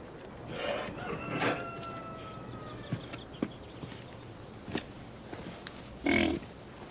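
Hobby pigs kept in former cottages grunt and snuffle up close, with a few sharp knocks and clatters and a louder squeal-like burst near the end, while a rooster-like call rings faintly in the background.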